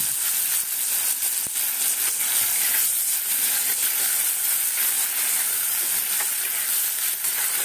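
Shrimp fry in a pan with a steady, loud sizzle and hiss that runs throughout, broken by occasional scraping stirs as they are moved around.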